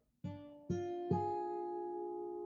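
Three guitar notes plucked one after another, building into a sustained, dark-sounding minor triad chord that rings on clearly.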